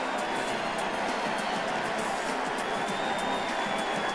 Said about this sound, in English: Disappointed Brian McKechnie, the crowd boo.